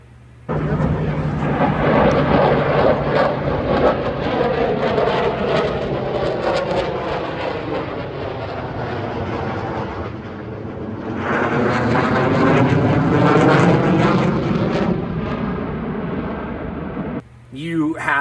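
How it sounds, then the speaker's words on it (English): An F-22 fighter jet flies at the EAA AirVenture Oshkosh 2023 airshow, a loud continuous roaring engine rumble that swells, dips briefly near midway and surges again before cutting off, with people talking under it. "But check out this dude, Raz, flying the F-22"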